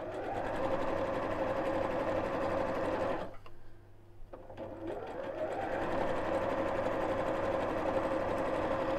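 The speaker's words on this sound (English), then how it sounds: "And hold it in place and sew." A sewing machine stitches a seam in a steady, fast, close whir, stops for about a second, then starts again and runs evenly to the end.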